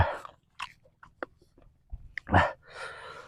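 Hard field crab shell bitten and crunched up close, with a few sharp cracks and chewing clicks scattered over quiet gaps, ending in a louder crunch and a burst of noise.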